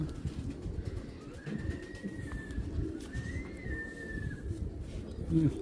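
Python-breed racer pigeons coo softly in a loft, a steady low murmur of several birds with faint higher calls drifting over it, close by and continuous.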